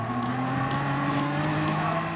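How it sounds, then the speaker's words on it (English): A race car engine from the Gran Turismo video game drones in a steady, loud rumble, playing through a big top at Sydney's Luna Park, with a sustained tone and no breaks. "The roar of the crowd. The rumble of the engine. The squeal of burning rubber."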